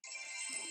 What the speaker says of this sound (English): that was my phone playing Clash of Clans